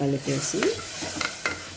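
Metal spoon scraping and stirring egg curry in a pan with a soft sizzle, several short strokes, close by.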